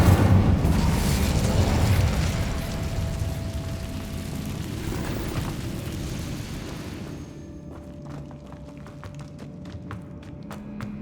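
A loud fiery burst from the Incendio spell in Hogwarts Legacy, a roaring whoosh that swells at the start and fades over several seconds, followed by scattered faint taps and clicks in a quieter stretch.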